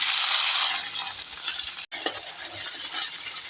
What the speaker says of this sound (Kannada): ಈರುಳ್ಳಿ ಎಲ್ಲ ಬಾಡಿಸ್ಕೊತಾ ಇದ್ದೀನಿ ಎಣ್ಣೆಯಲ್ಲಿ